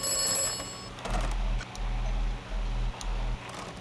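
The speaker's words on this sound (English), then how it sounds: "let's go ahead and answer the phone real quick" Telephone ringing in the video game Atomfall, a steady repeating ring in short bursts with brief gaps, fairly loud over a low background hum and no talking.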